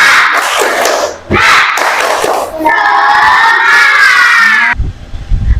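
A class of schoolchildren claps a short rhythmic spirit clap and shouts together, loud and close, followed by a high sustained chorus of voices.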